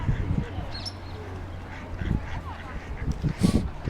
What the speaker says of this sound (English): Ducks, there's ducks.